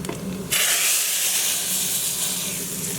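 A hot chunke tempering mixture is poured into cooked dal for Guyanese seven curry, setting off a sudden loud sizzle that settles into a sustained steamy hiss.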